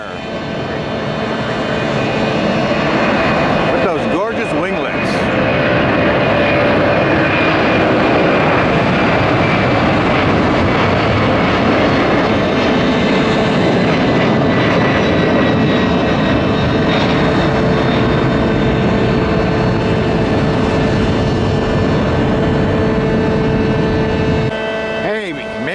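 Delta Airbus NEO jet airliner taking off, a loud, sustained engine roar with a broad rushing rumble that stays strong throughout before easing at the very end.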